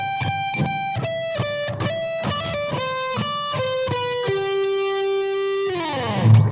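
Electric guitar plays the solo from a song: a quick sequence of distorted picked notes stepping downward, then a sustained note bending and sliding off at the end, loud and close.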